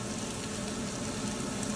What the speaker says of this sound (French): Et ici on a les légumes qui sont en train de rôtir.